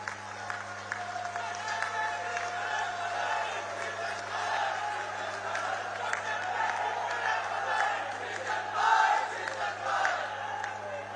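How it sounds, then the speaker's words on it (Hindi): A standing crowd at an outdoor foundation-stone ceremony in Chittorgarh district applauds, a broad far-off wash of clapping and crowd noise over a steady electrical hum, with a brief louder swell near the end. "एक बार सब अपने स्थान पर खड़े होकर तालियां बजा दो"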